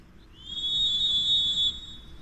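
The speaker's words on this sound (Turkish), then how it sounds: "karşılaşmanın hakemi 90 dakikanın son düdüğünü çalıyor" A referee's whistle blows one long sustained full-time blast lasting over a second at a football match, loud and shrill above low crowd and stadium ambience.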